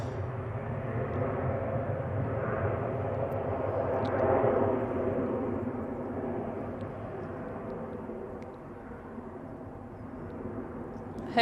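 A jet airliner on its takeoff roll at Manchester Airport, a steady broad engine roar that swells gently and then eases, heard from a distance with no talking.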